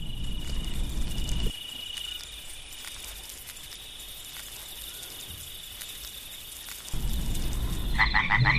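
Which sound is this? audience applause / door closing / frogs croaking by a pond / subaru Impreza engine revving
frogs croaking by a pond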